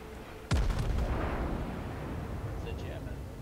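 High-explosive shells fired at the player's ship in the naval battle game, arriving as one sharp heavy boom with a rumbling tail that fades slowly, while a voice talks faintly underneath.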